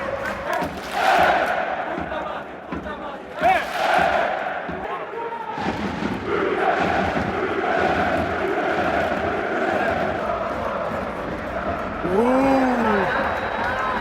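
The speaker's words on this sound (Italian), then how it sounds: "Ci sono momenti in cui l'Allianz Arena letteralmente esplode, tutto il pubblico è partecipa al tifo" Football crowd in the Allianz Arena at a Bayern Munich versus Real Madrid Champions League match, a broad roar of chanting and cheering with swells, and a commentator talking over it.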